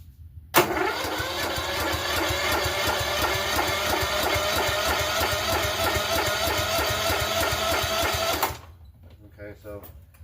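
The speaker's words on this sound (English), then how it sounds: "it's cranking over a little slow, but it's cranking over." Cub Cadet LTX1045 riding mower with 46-inch deck, engine cranking slowly on choke: a steady rhythmic starter churn runs about eight seconds without catching, then stops abruptly, leaving brief quiet sounds.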